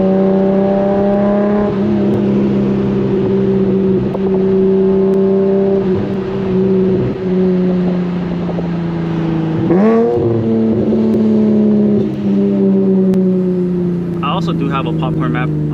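A tuned Q50's engine with aftermarket headers revs and drones steadily with a raspy, throaty exhaust note, pitch rising and falling, with people talking over it during a late-night drive.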